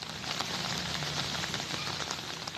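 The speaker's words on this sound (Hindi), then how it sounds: "यहाँ हो रही लगातार बारिश ने पूरे शहर को झील में तब्दील कर दिया है।" Heavy, continuous rain pours down steadily during flooding in Muzaffarpur, Bihar, a dense hiss of drops hitting surfaces close by with no pauses and no voices.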